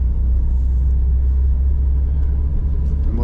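A 1982 Porsche 924 cruises along with a smooth, deep engine rumble and steady road noise, continuous and close from the cabin, no voices present.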